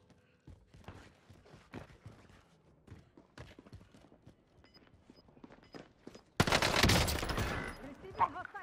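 Hostile gunfire erupts in Call of Duty on Rebirth Island: scattered shots and footsteps, then a loud, dense burst of automatic fire near the end.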